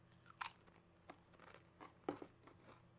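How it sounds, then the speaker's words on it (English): Potato chips crunched between the teeth in a few sharp, close bites with softer chewing between them, quiet and uneven in rhythm, no talk. "I have chips now, so you're gonna hear me crunch."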